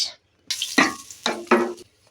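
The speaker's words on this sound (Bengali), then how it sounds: "মশলা ভাজা হয়ে গেছে" Bay leaves, cloves, nigella seeds and cardamom frying in hot oil for a bamboo shoot curry, heard as a few short, close sizzling bursts separated by brief quiet gaps.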